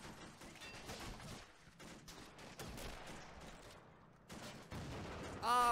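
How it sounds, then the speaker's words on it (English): Mortar and gunfire in the war video game Assault Squad 2, a rapid, irregular series of sharp bursts and thuds at moderate level, ending in a louder blast. "Oh, great, more mortars."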